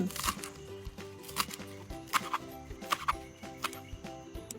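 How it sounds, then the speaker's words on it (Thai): Green onions are trimmed at the root and cut into pieces on a cutting board, giving scattered, fairly soft knife knocks at an irregular pace beneath background music. "นำต้มหอมมาตัดส่วนรากออก จากนั้น นำมาหั่นเป็นท่อน"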